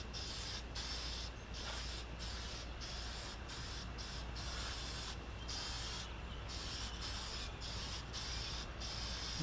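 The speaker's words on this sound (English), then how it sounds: "I'm going to go back with the perfect brown now and just mist some coats in." A spray gun mists brown toner lacquer coats onto a Zenith 5-S-29 radio cabinet, its hiss coming in close, repeated bursts separated by short pauses, over a constant low compressor hum.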